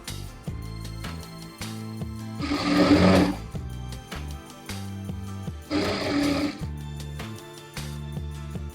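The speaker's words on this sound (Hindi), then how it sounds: "आधा इंची के हिसाब से पूरे पे सिलाई मार लेंगे" A sewing machine runs a half-inch seam along a Patiala salwar in two loud, close bursts of fast, buzzing stitching, with quieter mechanical clicks and hums in between and no voices.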